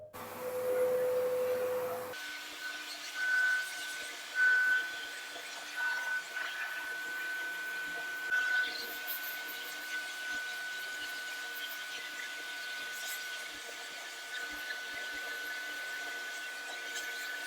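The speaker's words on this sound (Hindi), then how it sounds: "इसको आगे की होज पे वैक्यूम क्लीनर के कनेक्ट करते हैं" Agaro ACE wet and dry vacuum cleaner with a multipurpose brush attachment on its front hose, running as a steady, close whirring hum with brief brushing scrapes over it and no talking.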